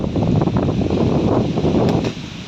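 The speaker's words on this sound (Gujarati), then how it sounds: "પવન બહુ ભાઈ છે" Strong cyclone wind from Cyclone Biporjoy roars steadily through trees on a farm, a loud, continuous rushing with gusty buffeting across the microphone.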